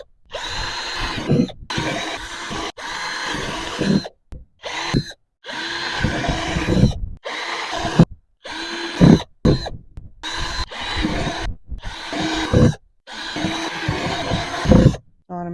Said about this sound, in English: I've got my drill so I can drill the holes in the buckets so that it'll drain